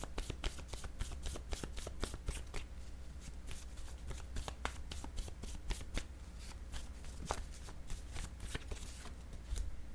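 Oracle word cards shuffled by hand, giving close, repeated crisp riffling flutters and soft slaps in a quick, uneven rhythm, heard alone and fairly faint throughout.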